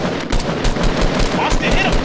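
Rapid automatic gunfire in the video game Fortnite, loud bursts of shots rattling on with little break while players shout over the noise.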